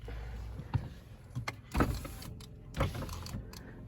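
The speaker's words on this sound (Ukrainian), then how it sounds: "Від сонечка зачинила вікно" An electric car window motors shut while the car is parked on a street on a sunny day, a steady whir with a few soft thumps and clicks close by, no talk.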